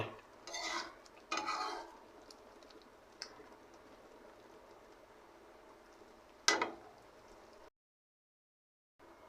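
Egg kofta curry being stirred in a pot, with a few short scraping bursts near the start and another sharp scrape later, faint simmering between and a brief silence near the end.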